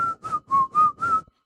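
A person whistles a short tune of five clear, evenly spaced notes, close and alone with no talk.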